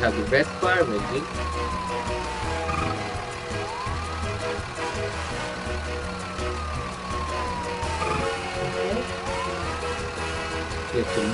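A red fire engine in a Mickey Mouse Clubhouse video game wails with a repeated rising-and-falling siren over cheerful background music.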